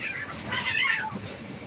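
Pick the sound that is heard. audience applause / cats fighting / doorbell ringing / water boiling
cats fighting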